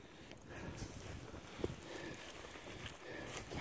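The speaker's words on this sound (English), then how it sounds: "I'm gonna get in out the wind." Wind buffets a microphone outdoors during metal detecting in the UK, a low rumbling gusty roar that fills the short stretch with no voice heard.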